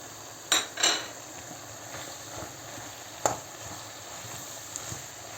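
A utensil scrapes and clinks against a pan a few times over a soft sizzle of liver frying with spices, close by, with no talking.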